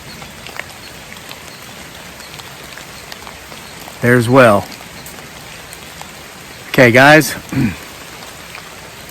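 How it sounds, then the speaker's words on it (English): Steady rain falling outdoors, a continuous hiss of drops on surfaces close to the microphone, with a voice briefly speaking twice over it. "Dang this rain."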